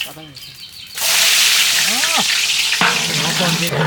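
Onions sizzle loudly in hot pure mustard oil for village-style beef tehari, a dense steady frying hiss that begins after a quiet first second with some clatter, with faint bird calls and brief voices in the background.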